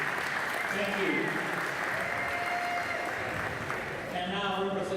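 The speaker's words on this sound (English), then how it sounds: "How about another round of applause for this team?" A crowd at a high school volleyball all-star game gives sustained applause, dense steady clapping that continues throughout with faint voices and cheers mixed in.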